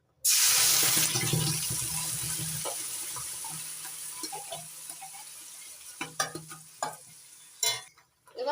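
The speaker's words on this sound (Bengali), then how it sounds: "গাজরটা ভালো করে ভেজে নেব ঘি দিয়ে" Carrot paste frying in melted ghee in a wok, a loud steady sizzle that starts abruptly and slowly fades, broken by scraping stirs and clinks near the end.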